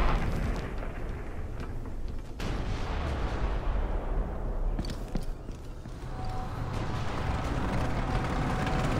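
Distant artillery barrage in the tactical shooter Ghost Recon: Future Soldier during a mission in Russia, a continuous rumbling roar with scattered heavy thuds and a few sharper impacts rolling under the din.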